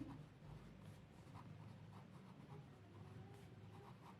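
Pen scratching across paper during a Class 9 maths lesson on the elimination method, a quiet, steady run of soft writing strokes that continues for several seconds without pause.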